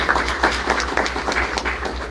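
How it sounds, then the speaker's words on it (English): Applause breaks out from an audience at a school board meeting: scattered, moderately loud clapping that runs throughout with no speech over it. "We'll clap anyways."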